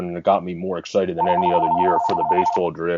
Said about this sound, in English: Oh, there goes that was our phone in the background.